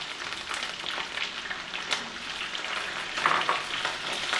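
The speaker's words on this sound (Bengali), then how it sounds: "পেঁয়াজটাকে হালকা ব্রাউন করে ভেজে নেব" Chopped onions and green chillies fry in oil in a pan, giving a soft, continuous sizzle with occasional stirring scrapes and crackles, fairly quiet and close.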